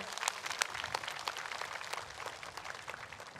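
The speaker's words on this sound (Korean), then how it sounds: "다시 한 번 더 큰 박수 부탁드립니다." An audience applauds at a Korean Buddhist memorial ceremony, with brisk, fairly dense clapping throughout a short burst at moderate distance.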